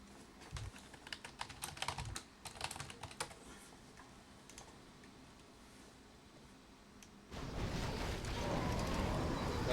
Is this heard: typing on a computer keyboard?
yes